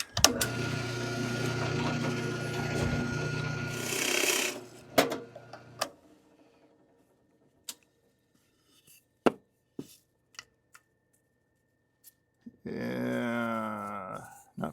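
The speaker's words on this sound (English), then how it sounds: "I'm going to drill it into the top" A power drill bores into a piece of scrap wood, running loud and steady for several seconds, then a series of scattered clicks and knocks, and finally a short whirring spin-up.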